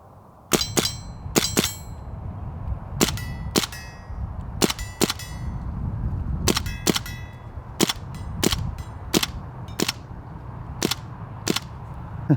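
An M1 replica BB gun fires repeatedly, each shot a crisp pop followed by a bright metallic clang of BBs striking steel targets, spaced irregularly over a low steady background.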